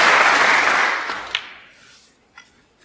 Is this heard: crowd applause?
yes